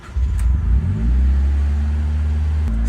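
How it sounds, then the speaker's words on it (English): A Ford Focus engine cranks and fires up close by, then settles into a loud, steady idle hum with a slight rise in pitch just before the end. "So first up, I have to start the car"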